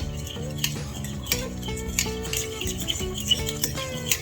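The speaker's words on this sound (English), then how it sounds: "Go ahead and give this a nice mix." Ingredients for cheese danishes mixed by hand in a bowl, a utensil clinking and scraping in an uneven rhythm close by, with no voices.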